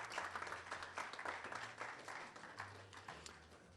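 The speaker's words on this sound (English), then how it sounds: "Please, let's give our sponsors some big round of applause." Faint applause from an audience at a quiz balloting event, a soft wash of clapping with a low hum beneath it, steady throughout.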